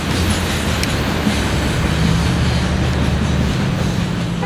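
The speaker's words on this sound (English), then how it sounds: "CSX Q456 coming by Folkston. Track 2." CSX freight train Q456 rolls past on track 2 at Folkston, a loud, close, continuous low rumble of wagons on rails.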